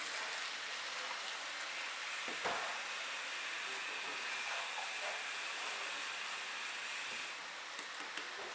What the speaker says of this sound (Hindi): अब इसको हल्का हल्का सा मिक्स करेंगे।